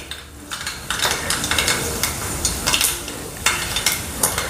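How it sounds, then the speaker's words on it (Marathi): Mustard seeds spluttering in hot oil in a kadhai while making karvanda pickle, a dense close crackle with repeated sharp popping bursts throughout, alone without speech. "मोहरी तडतडली"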